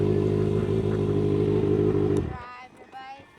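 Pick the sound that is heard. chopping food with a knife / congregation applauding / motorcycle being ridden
motorcycle being ridden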